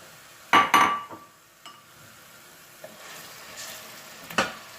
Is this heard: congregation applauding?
no